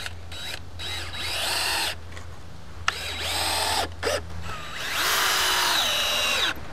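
Cordless power drill driving screws into wood: several short whirring bursts that rise and fall in pitch, close and fairly loud, with brief pauses between them over a faint low hum.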